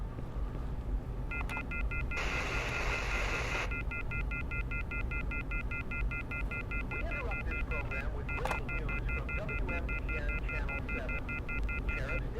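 In a video game, a picked-up telephone gives off dialing tones, a steady electronic tone pattern that runs through most of the stretch over a low background hum, with a brief burst of hiss early on.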